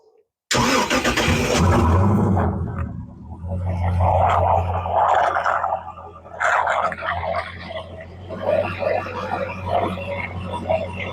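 An Ilmor MasterCraft boat engine starts with a burst, then settles into a steady low running rumble during winterizing, with gurgling, bubbling water sounds over it throughout.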